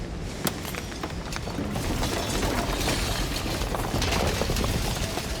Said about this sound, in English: And then the shattering.